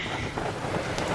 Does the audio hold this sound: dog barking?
no